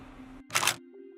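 A single-lens reflex camera fires its shutter once during an indoor garage test shoot, a sharp mechanical click-clack standing out against a quiet steady electrical hum.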